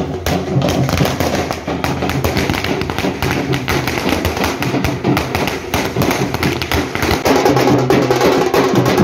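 Firecrackers burst in a rapid, dense string during a celebratory political procession, loud sharp cracks crowding together without pause over a continuous roar of noise.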